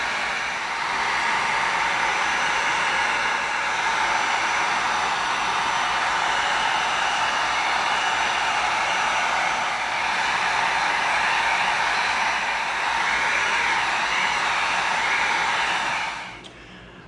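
A heat gun blasts EVA foam on a Green Hornet gas gun prop. Its steady, close, loud airy roar runs unbroken for about sixteen seconds, then cuts off.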